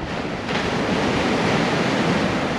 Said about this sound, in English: But the waves are so big though, no?